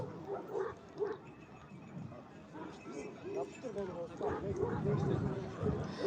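At a Kangal dog competition in Afyon, a young male Malaklı dog of 6 to 12 months barks in short bursts, yipping and whining, while an announcer talks over the ring and other noise carries in the background.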